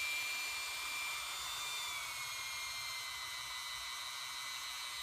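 A Dremel rotary tool whines steadily at high speed while polishing a Glock 21 trigger, a constant close buzzing drone with no pauses and no voices.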